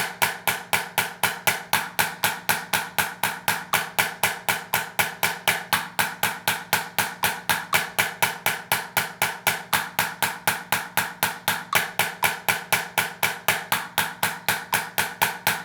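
A single-stroke drum practice routine runs as a steady, fast stream of even, crisp strokes through sixteenth notes, triplets and sextuplets, close and unaccompanied.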